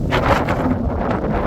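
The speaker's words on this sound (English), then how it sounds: "You can hear the wind blowing, and look at these swirling clouds." Strong wind blowing outdoors on open Colorado plains near Stratton, a steady roaring buffet against the microphone throughout, with no voices.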